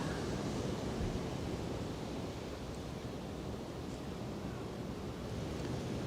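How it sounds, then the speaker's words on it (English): Ocean surf washes steadily over a shore in a continuous, even roar of breaking waves, close and full with no voices. "let's just enjoy the sound of the waves"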